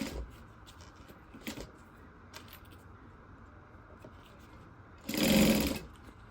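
A sewing machine bastes a seam on a circle handbag, running in a short loud burst near the end after quieter handling clicks and rustles of fabric and tools.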